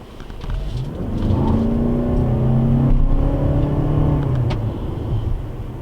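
A Toyota RAV4 XSE Hybrid in sport mode accelerates hard, its engine note rising steadily in pitch and loudness over several seconds, with a whirring electric tone and road rumble underneath.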